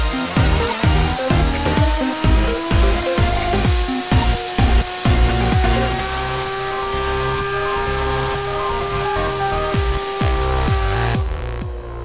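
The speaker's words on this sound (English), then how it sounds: "We are going to blow air and measure the top speed of the spinner." A spinner driven by compressed air from a modified compressor whirs up to top speed, a loud steady rotor tone rising in pitch under pulsing rhythmic chatter that smooths out once it holds speed.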